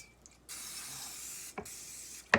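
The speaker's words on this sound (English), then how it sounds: "I've got to spray my pan, so I'm just gonna do it right quick while this is in here." Cooking spray hisses onto a baking pan in a home kitchen, heard as two longer steady sprays followed by a short final burst, close and fairly quiet.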